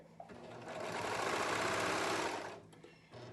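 A serger sewing machine runs in a steady burst of whirring stitching for about two seconds, ramping up and winding down as the pedal is pressed and released, close and alone with no talk.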